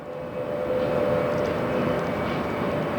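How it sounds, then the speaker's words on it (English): An Airbus A330-900neo jet airliner passes at Detroit Metro airport, a steady, sustained broadband engine roar with a faint tonal whine, holding loud and even throughout. "A330-900, otherwise known as A330neo."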